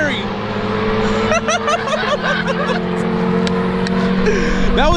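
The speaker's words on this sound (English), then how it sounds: "Smoking them fucking tires." Loud, steady engine roar from a car fitted with an eBay turbo doing a tire-smoking burnout, sustained and close with a whining tone throughout, while people talk and shout over it.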